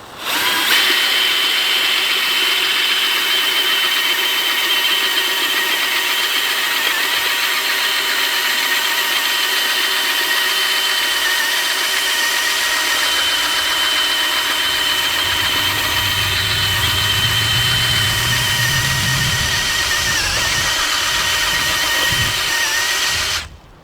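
An electric power harrow for working soil runs continuously at close range, giving a steady whining motor hum with a grinding mechanical drone that holds for over twenty seconds.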